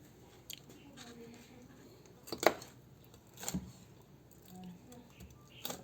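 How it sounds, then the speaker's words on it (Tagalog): Freshly cooked pork being sliced for sisig, a few soft, scattered knife cuts and taps against a board, quiet and close, with a voice talking at times. "Ating hinihiwa. Bagong hango."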